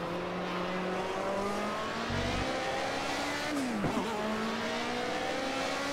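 A BMW 320 Turbo race car in Project CARS at Donington Park, engine droning steadily as too much throttle is applied, with a brief whooshing sweep and tyre squeal midway, loud and continuous.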